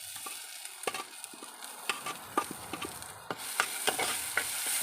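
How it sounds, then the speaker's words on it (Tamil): Tomatoes stirred into onions frying in a pan for vegetable kurma, a constant close sizzle broken by repeated scraping clacks of a spoon against the pan. "தக்காளி சேர்த்து நல்லா கொஞ்சம் கிளறி விடுங்க."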